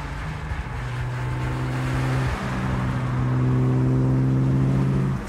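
A 1960 Aston Martin DB4 Zagato's engine drones steadily from inside the car as it is driven, the pitch climbing through a gear change midway and holding loud and close with no talk.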